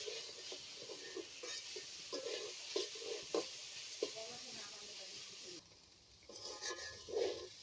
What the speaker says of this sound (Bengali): এবার এটা নেড়ে চেড়ে কিছু সময় ভেজে নেব।